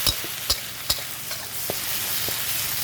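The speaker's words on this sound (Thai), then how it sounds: "จะมาผัดกะเพราค่ะ ผัดกะเพราค่ะ" Food sizzles in a hot wok as pad kaphrao is stir-fried in oil left from frying eggs, while a utensil scrapes and clinks against the pan a few times, close up.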